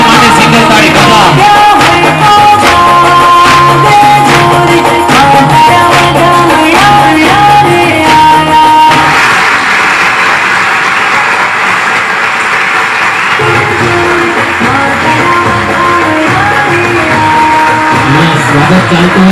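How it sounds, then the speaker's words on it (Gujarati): An audience claps in welcome at a Guru Purnima festival gathering. Musical tones play first, then a broad, dense wash of applause follows for the remaining half. "સ્વાગત માટે સિંગલ તાળી કરવા."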